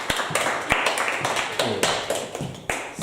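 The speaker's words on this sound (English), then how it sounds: "can we have a clap of our hands for 3?" Drum-lesson students clap their hands in loose, uneven claps that mostly fall together, close and fairly loud, with faint voices in the background.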